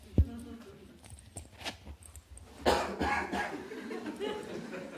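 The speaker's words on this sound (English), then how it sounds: "Excuse me, I have to cough." A few muffled coughs close by, followed by a rougher throaty burst and lingering breathy noise against a quiet room.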